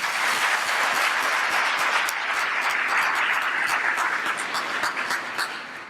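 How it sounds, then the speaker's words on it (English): Guests seated at tables during an award ceremony break into a full, dense round of applause that holds steady and then gradually tapers off toward the end. "So if we could give them a little applause"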